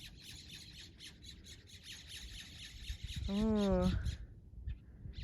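Blue birds along a hiking trail give one loud, harsh squawk that drops in pitch, heard nearby over outdoor background noise, with a person speaking briefly.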